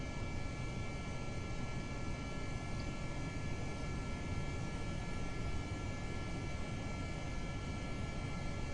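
A steady, droning aircraft engine from the video game Kerbal Space Program hums continuously through a takeoff run on a runway, with constant broadband roar and faint tonal whine, no talk.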